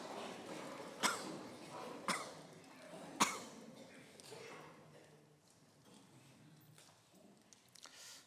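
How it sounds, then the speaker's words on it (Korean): A church congregation coughs together for about ten seconds, with several sharp, louder coughs early on and a dense spread of muffled coughing and throat clearing from many people through a hall. "다 같이 입을 좀 막고 같이 기침을 10초 동안 하겠습니다."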